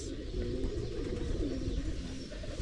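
Pigeons nesting near a spot holding three eggs coo in low, steady, throaty murmurs, close and continuous against a dense background hum.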